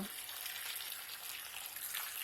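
Hot water from a kettle poured into a cocotte of courgette and potato soup vegetables, a steady close hiss and splash of liquid running continuously without pause.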